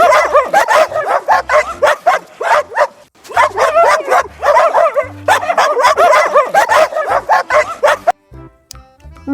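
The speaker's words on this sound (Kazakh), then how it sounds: "Бұл ит, ит оф-оф-оф-оф, оф-оф-оф-оф дейді." A dog barks over and over in quick, rhythmic bursts, loud and close, with brief pauses between runs before a quieter ending.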